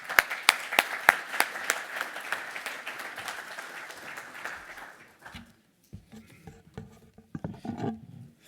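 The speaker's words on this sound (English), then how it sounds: "please, a big round of applause to welcome him up to the stage" Audience at an annual conference applauds as a speaker comes to the stage, with a few sharp, loud claps up front, then a full round that fades out after about five seconds, leaving sparse stage noises.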